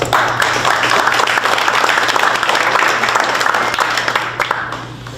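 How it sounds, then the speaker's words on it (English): Loud, close applause from an audience at a real estate investors' association panel, welcoming a panel member, dense and steady before easing off near the end. "could you guys get open and off with a round of applause"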